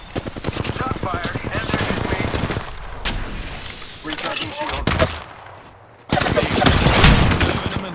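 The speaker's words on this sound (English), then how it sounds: "Shots fired." Apex Legends gunfire: dense automatic bursts and repeated shots across several loud stretches, broken by brief lulls, with in-game voices talking over the firefight.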